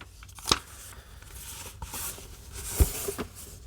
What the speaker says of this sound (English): Paper is a little loud.